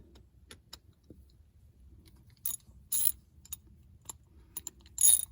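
Ratchet wrench on a 16 mm bolt of a Sany excavator, a few short bursts of quick metallic clicking separated by pauses, over a low mechanical rumble.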